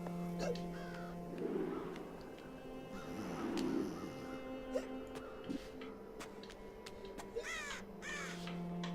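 Crows caw repeatedly in the video game Child of Light, a chorus of harsh calls scattered across a town scene, some near and some farther off, over soft ambient game music.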